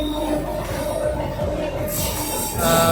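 Steady rumble and rattle of the Duronto Express rolling along the tracks after leaving Kolkata station, loud and continuous, with a high metallic hiss rising toward the end.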